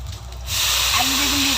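Chopped onion, potato and eggplant go into a hot pan and break into a loud, steady sizzle that starts abruptly and holds, with no talk over it.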